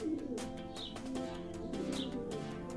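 Pigeons, including a closed-tail pigeon, coo softly and repeatedly at close range, with a few chirps and brief wing flutters mixed in.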